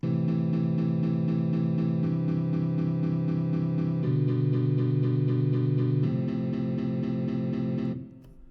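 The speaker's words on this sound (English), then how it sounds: "I've chopped the chords up into a bunch of eighth notes." Sustained synth chords pulsing in steady, even eighth notes, changing harmony every two seconds or so, then stopping abruptly near the end.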